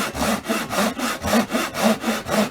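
A hand saw cuts kerfs into wood in steady back-and-forth strokes, about ten even rasping passes, close and loud with no voices.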